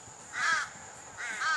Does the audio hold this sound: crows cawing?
yes